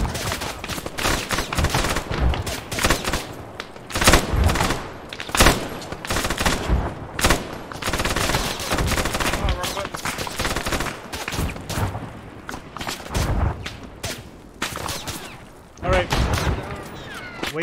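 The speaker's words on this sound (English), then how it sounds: "Taking fire." Gunfire in an infantry firefight, dense bursts and volleys of shots cracking throughout, some loud and near, others more distant, with voices talking over the shooting.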